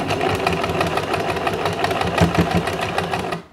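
A sewing machine stitches the edge of a cloth face mask with a loud, continuous, fast mechanical whirr and rhythmic needle clatter that runs steadily, then stops abruptly at the end.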